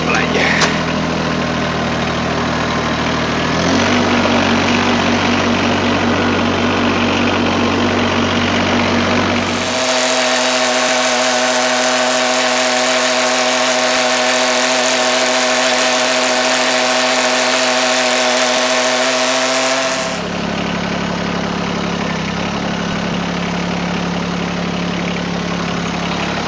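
A Mahindra eMax 20s HST compact tractor drives along with its engine running steadily, a loud continuous mechanical drone whose pitch and tone shift partway through as the load changes, with no voices.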